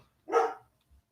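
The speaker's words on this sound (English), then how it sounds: "sorry, my dog's barking." One loud, close dog bark, short and sharp, followed by silence and a faint low thump.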